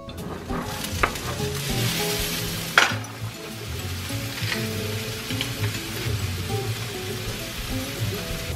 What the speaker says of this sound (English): I like to saute until everything's nice and soft